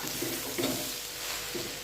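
Water poured into a clay pot while making vegetable rice: a brief, steady splashing hiss lasting under two seconds, close and moderately loud, with no voices.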